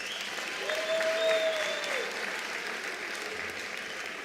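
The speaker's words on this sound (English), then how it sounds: "Let's give them a big hand of applause." Applause from the audience at a ministerial announcement of national school examination results, a steady patter of clapping sustained for a few seconds at moderate level with a few faint tones over it.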